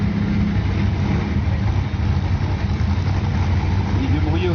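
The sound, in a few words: white 1973 Plymouth Cuda 5-litre engine idling on drag strip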